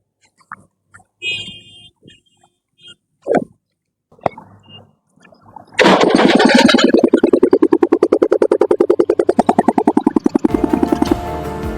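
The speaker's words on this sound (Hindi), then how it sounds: "अमन जेसीबी चला रहा था घर के बाहर ही।" A JCB backhoe's diesel engine chugs loudly and rhythmically just outside a house, its rapid pulsing firing beats continuing for several seconds after some scattered clatter and knocks.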